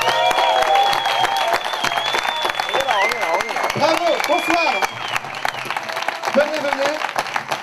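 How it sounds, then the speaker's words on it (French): Studio audience applauding as guests arrive on a TV set, loud clapping and crowd noise under a presenter's lively talk, with a sustained whistle-like tone riding above. "Sous vos applaudissements fournis"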